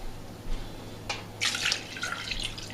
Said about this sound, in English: I'm just going to add a little bit of cold water